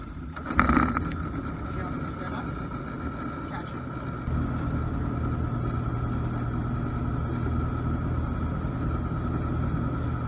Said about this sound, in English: So here I'm, just started the propellers.